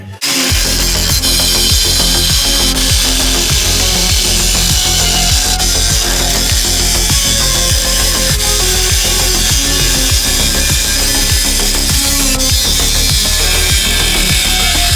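A power saw blade grinds steadily through the metal body of a car being cut apart for a speaker box, a loud, continuous rasping cut with a rapid repeating rhythm lasting throughout, no voices.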